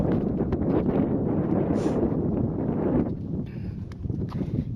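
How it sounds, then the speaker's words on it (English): Wind blowing steadily across the upper rim of Walnut Canyon in Arizona, a broad rushing roar buffeting the microphone throughout, easing slightly toward the end, with no one speaking. "wind, a breeze."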